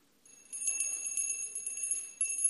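A small bell rings steadily with a sustained, shimmering metallic tone and light rattling strokes, fairly quiet and with no talking.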